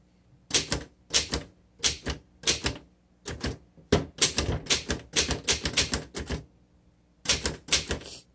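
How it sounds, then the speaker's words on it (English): Clacking keystrokes from a 1924 Royal 10 antique upright manual typewriter come in quick bursts separated by short pauses, crisp and close, with no voices. "let's go ahead and do some typing"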